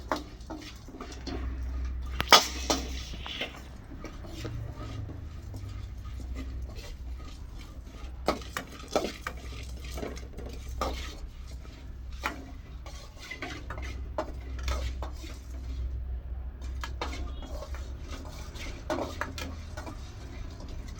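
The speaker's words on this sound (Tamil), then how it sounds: "போட்டு சிம்மில் மீடியம் ஃப்ளேமில் வச்சுட்டு ட்ரை ரோஸ்ட் பண்ணுங்க." Spices dry roasting in a pan over a medium flame, heard as faint scattered ticks and scrapes of stirring over a low steady hum, with occasional sharper clinks of the utensil against the pan.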